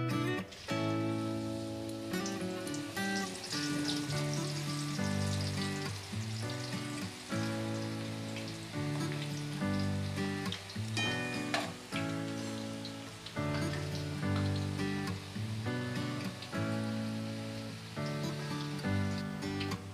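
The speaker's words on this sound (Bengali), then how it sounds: "এবার আমি আলুর চিপসগুলো দিয়ে ভালো করে মুচমুচে করে ভেজে নেব।" Potato chips deep frying in hot oil give a dense, steady crackling sizzle that runs through the whole stretch, layered with a sustained tonal backdrop; no one speaks.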